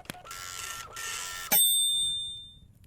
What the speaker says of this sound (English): Then the printer began to work.